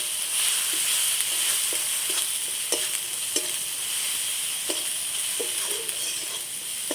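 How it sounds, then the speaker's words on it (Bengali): Cumin and coriander powder frying in a pan, a steady close sizzle under repeated scraping taps from a stirring spoon every half second or so, no voices. "সব মশলা আমি এভাবে একটুখানি নেড়ে চেড়ে কষে নিচ্ছি।"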